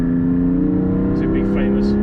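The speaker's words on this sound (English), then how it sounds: "Oh yeah, I love that rev match." Porsche GT4 sports car engine revving in a rev match on a winding road, a steady loud drone with harmonic tones throughout, with someone talking over it.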